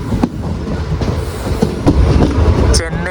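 The Mangaluru Central Mail from Chennai, hauled by a P4 locomotive, rolls into Kanhangad railway station with loud rumbling and rhythmic wheel clacks, and a faint squeal rises near the end.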